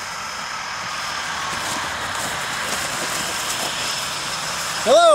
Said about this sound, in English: that's a really loud airplane noise in the background